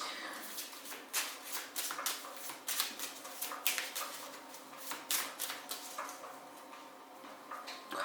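Tarot cards being shuffled in a riffle-and-slide rhythm, a quick run of crisp papery flutters and taps close by, repeating steadily with no talk.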